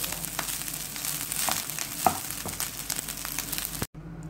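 Garlic fries in a pan with a continuous close sizzle and crackle, a few sharper pops and stirring scrapes, ending abruptly with a brief cut.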